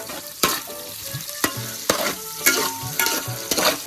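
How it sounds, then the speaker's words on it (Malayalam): Chopped onions sizzle in a hot pan while a utensil stirs them, with sharp scraping strokes repeating every half second or so over a steady frying hiss. "വെങ്കായം ഇട്ട് കൊടുത്തിട്ടുണ്ട്. അപ്പൊ നമുക്ക് അങ്ങോട്ട് ഇളക്കി അങ്ങോട്ട് കൊടുക്കാം കേട്ടോ."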